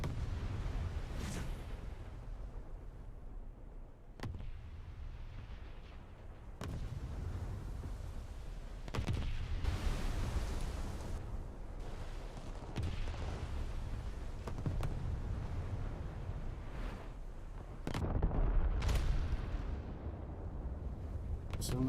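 Ship gunfire and explosions in a battleships video game, heavy booms recurring every few seconds with long rumbling tails over a continuous low drone.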